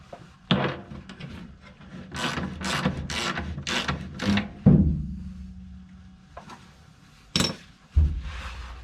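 A hand wrench ratchets in several quick bursts of clicking while a generator is mounted on an Arctic Fox 990 truck camper, followed by a few louder knocks and clunks.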